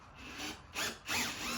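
A power drill with a 5.5 millimetre bit whirs briefly while a storage bin is installed on a Sea-Doo Spark Trixx personal watercraft, a close, moderately loud whine that surges twice.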